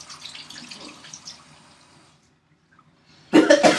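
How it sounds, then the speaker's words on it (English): Water from a sink tap runs steadily as hands are washed in a clinic exam room, a soft continuous rush that stops midway, followed by a brief louder splash. "Let me wash my hands real quick."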